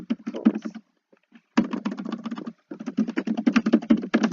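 Fingers tap quickly on a computer keyboard in close, dense bursts of clicks, broken by short pauses, with no talk over them.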